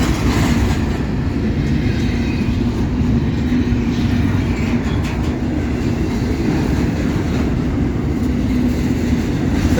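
Norfolk Southern and CSX freight trains pass close by in Homestead, a loud continuous rumble and roar of rolling cars with faint rhythmic wheel clatter and no talk.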